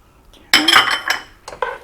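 Chopped onion and celery stirred in a pot, a couple of sharp metallic clanks and scrapes of a spoon against the pot, close and brief after a quiet start.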